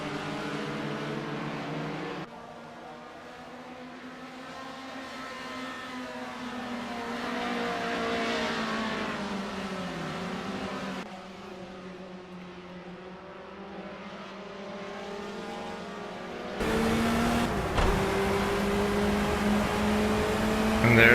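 A BMW 2002 power-sliding in Project CARS at Donington GP on overheating tyres, its engine droning and revving in shifting pitch, with a harsh rasp building louder near the end, heard alone and fairly close.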